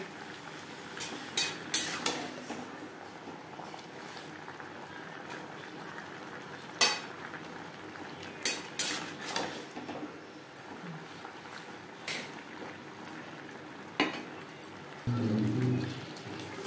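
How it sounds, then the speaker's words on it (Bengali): Greens with stalks, pumpkin and eggplant are stirred together in a pan, with a spoon knocking and scraping in scattered clinks over a low sizzle, close and fairly soft. "ডাঁটা কুমড়ো ও বেগুনের সাথে শাক বেশ ভালো করে মিক্স করে দেব।"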